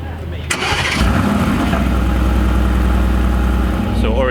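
A naturally aspirated Toyota Supra engine cranks and fires at about half a second, then settles into a loud, steady, rumbling idle that continues to the end, with some talking over it.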